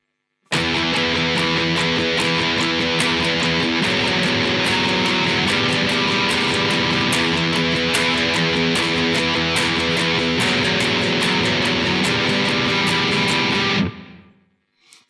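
Loud, distorted electric guitar tremolo-picked riff, a rapid steady stream of strummed notes that plays continuously for about thirteen seconds with no voices.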